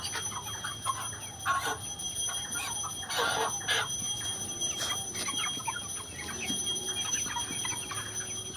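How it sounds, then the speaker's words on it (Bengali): Several chickens cluck at a poultry farm, with short, repeated calls from birds nearby over a steady background hum. "কত মুরগি দেখো, এদিকেও মুরগি আছে"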